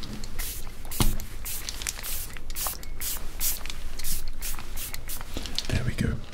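A spray bottle hisses in a quick series of close, crisp bursts during a role-played first class airport check-in, with soft handling noises between sprays.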